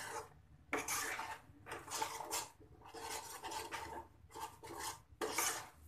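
Salt being stirred into green pea dal in a cooking pot, heard as repeated close scraping strokes of a spoon against the pot in steady bursts with short pauses, with no talking.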